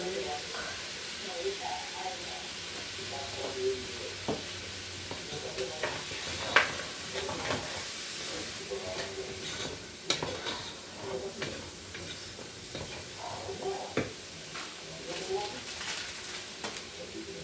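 Beef fries in a pan with soy sauce and spices, giving a soft, continuous sizzle and hiss. Occasional stirring clicks and scrapes break through, and it stays fairly quiet throughout.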